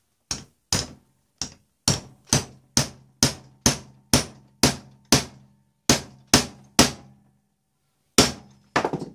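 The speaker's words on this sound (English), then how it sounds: "And hammer." A hole punch is struck into leather with a hammer, giving about sixteen sharp, loud, evenly spaced blows that each ring briefly. A short pause comes before the final few strikes, and no one speaks.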